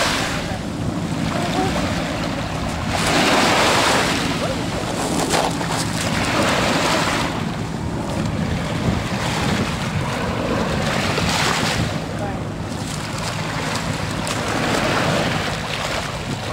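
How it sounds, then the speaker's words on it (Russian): Sea waves roll onto the shore at Khosta in Sochi, loud washing surges swelling and receding every few seconds with wind noise over the microphone. "Уляш, это море"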